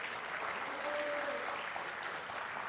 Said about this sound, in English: Let's have a round of applause to that.